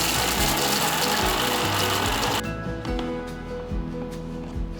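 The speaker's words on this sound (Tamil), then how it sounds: "மிக்சர் ஜாரில் மாற்றிட்டு நம்ம இப்போ இதை நல்ல பவுடராக அரைச்சிக்கலாம்." A kitchen mixer grinder powders cooled ingredients for kovakkai poriyal, a loud steady mechanical whir and grind that cuts out around halfway, leaving a quieter rattling hum with light knocks.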